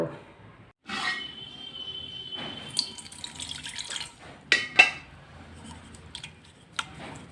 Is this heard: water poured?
yes